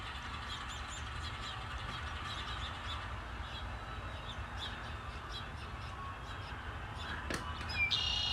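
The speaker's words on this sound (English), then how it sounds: "That bird is a red-winged blackbird," Red-winged blackbird calling outdoors, faint repeated chirps and harsh notes over steady background noise, with a louder call near the end.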